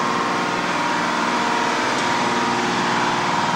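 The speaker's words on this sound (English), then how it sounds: "here's one of the main engines" A tugboat's 3,200-horsepower main diesel engine drones steadily and loudly, a dense mechanical rumble with a constant rhythmic chug and no pauses, heard in the engine room.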